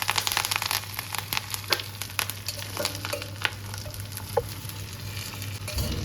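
Mustard seeds, cumin and curry leaves fry in a kadai with a constant close sizzle dotted by sharp crackles and spits, a stirring knock near the end.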